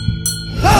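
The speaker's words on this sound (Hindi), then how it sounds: "मंदिर की घंटी की आवाज तेज हो रही थी।" A temple bell rings with bright, sustained metallic tones, its shimmering ring swelling louder against a low rumbling background in a haunted-story scene.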